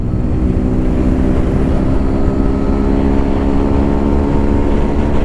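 A Yamaha FZ S motorcycle engine pulls hard in fourth gear toward top speed, a loud, steady droning roar mixed with heavy wind rush, holding constant throughout with no pauses.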